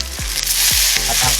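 Chopped tomatoes and onion leaves hit a pan over high heat while sarciadong isda is being cooked, a loud continuous sizzle with short scraping stirs recurring every half second or so.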